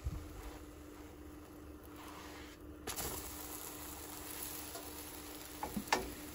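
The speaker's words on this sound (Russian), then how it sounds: "Блинчики жарю с двух сторон." Zucchini pancake batter fries in a 28 cm oiled pan over medium heat, giving a steady low sizzle throughout with a few soft clicks and a brief scrape near the end.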